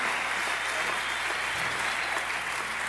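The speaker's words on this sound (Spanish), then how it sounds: "Si ese aplauso es para nosotros, está bien, pero si es para él, tiene que dárselo más fuerte." Dense, steady applause from an audience fills the whole span, a broad wash of clapping heard from a distance with no voices on top.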